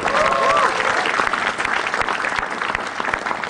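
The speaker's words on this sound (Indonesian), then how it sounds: "Tepuk tangan dulu buat stand up comedy." Audience applause at an Indonesian stand-up comedy show, a dense, loud wash of clapping filling the room with a few cheers or whoops rising over it at the start, then holding steady to the end.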